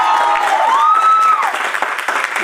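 An audience at a Women's Day event honouring mothers applauds loudly for the organising team, a thick roar of clapping with some cheering and a rising whistle-like tone over the top.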